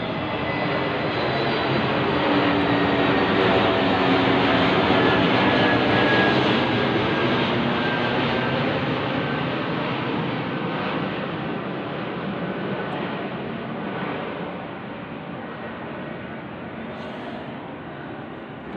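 An airplane passes overhead, a loud, continuous broadband engine roar that holds strong and then slowly fades over about nineteen seconds, with no voices.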